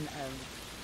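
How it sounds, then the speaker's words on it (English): Steady rushing water from a waterfall heard through a phone line on a conference call, a continuous broadband wash filling the whole short moment with no pauses. "hear the waterfall."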